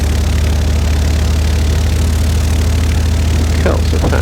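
A light aircraft engine idles steadily after power checks, a constant low droning throb with brief higher-pitched sounds near the end.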